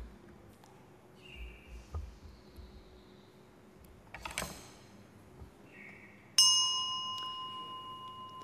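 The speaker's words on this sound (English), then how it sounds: "Bell sound" A Buddhist temple bell is struck once during a chanted bell verse, ringing out sharply and sustaining a long, slowly fading metallic tone, following faint background sounds and a brief clatter.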